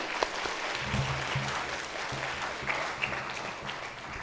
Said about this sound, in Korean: 우리 하나님께 한번 박수로 영광 돌리겠습니다